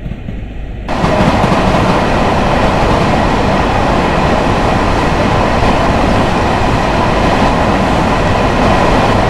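A train in the video game Train Sim World rumbles steadily along with a dense, continuous roar and faint rhythmic clatter, loud and close throughout after a brief quieter start.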